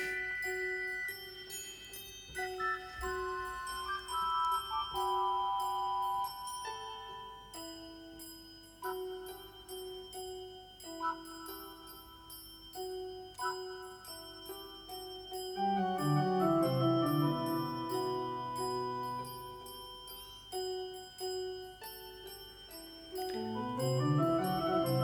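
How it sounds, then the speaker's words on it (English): Clear, sustained bell tones ring through a progressive rock track, sounding as repeated bright chimes over layered instruments that swell louder near the end. "The bell was very soothing."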